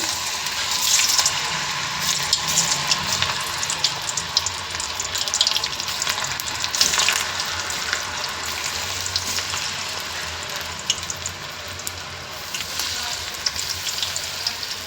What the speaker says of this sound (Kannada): ಎಣ್ಣೆ ಕಾದಿದೆ ಬನ್ನಿ ಇವಾಗ ಎಣ್ಣೆಯಲ್ಲಿ ಹಾಕೋಣ